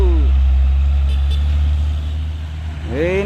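An orange Mitsubishi Fuso truck climbs a hill with a loud, low engine rumble close by, while a rising horn-like tone sweeps in near the end and a voice speaks over it.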